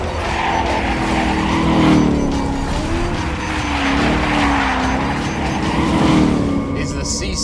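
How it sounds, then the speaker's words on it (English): A Chevrolet C7 Corvette ZR1 drives with a loud, sustained engine tone that swells and eases in waves, tires faintly squealing, close and continuous for several seconds. "is the C7 Corvette ZR1"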